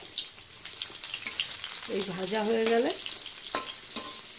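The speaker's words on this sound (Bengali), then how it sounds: "পেঁয়াজটা একটু ভাজা হয়ে যাক" Onions fry in a pan with a continuous bright sizzle, and a voice briefly sounds partway through over the hiss.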